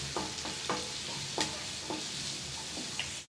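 A medium-size chopped onion sautéing in a pan for kadai paneer: a soft continuous sizzle broken by a series of close spatula scrapes and taps at an uneven rhythm, ending abruptly.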